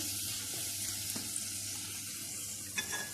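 A spatula stirs spiced onion soup seasoned with salt and red pepper flakes in a pot, giving a soft, faint, steady sizzle with an occasional light scrape or clink, close by and quiet.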